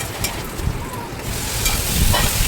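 Chopped onion sautés in a little oil in a pot, giving a steady, moderately loud sizzle with scattered crackles and faint stirring scrapes in a home kitchen.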